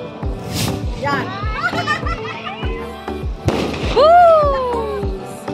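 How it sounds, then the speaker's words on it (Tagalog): Fireworks go off during the Tapusan Festival in Taal, Batangas, with sharp pops and whistling bursts heard amid children shouting, laughing and chattering nearby. "It's a fireworks."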